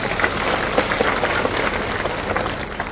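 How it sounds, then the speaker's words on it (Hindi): Loud, dense applause and clapping from a large crowd at a political rally in Shajapur, Madhya Pradesh, continuous and roaring throughout. "तो किया तो तालियों की गड़गड़ाहट हुई।"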